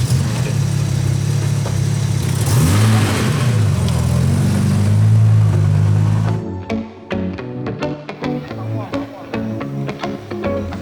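A classic Jaguar E-Type engine revs loudly and holds a high, rising roar for several seconds, then drops to a lumpy idle with uneven bursts.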